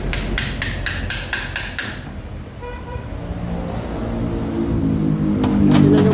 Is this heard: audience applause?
no